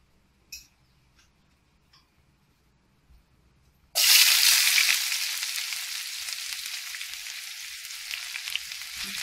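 Cashews and raisins dropped into a hot pan burst into a sudden loud sizzle after a few faint clinks, then settle into a steady, slowly fading frying hiss, close and without speech.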